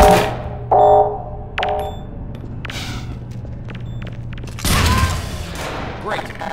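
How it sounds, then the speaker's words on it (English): A grenade in Half-Life 2 goes off with a heavy, booming blast near the end, following scattered thumps and clanks, with voices talking around it. "Roll a grenade in there if you've got one."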